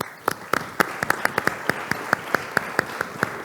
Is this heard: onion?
no